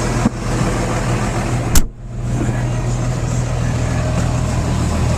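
A new tractor's engine runs steadily while spreading clover seed, a continuous loud drone with a low hum close to the listener and a brief thump partway through.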